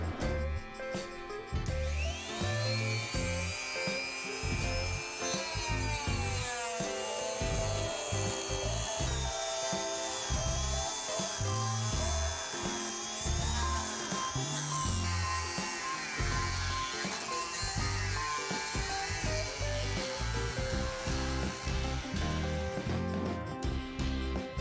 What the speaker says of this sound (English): we can go ahead and break out the power tools.